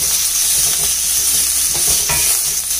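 Capsicum and vegetables for veg fried rice being stir-fried in a hot pan, a loud steady sizzle with faint scraping as the food is tossed, close up.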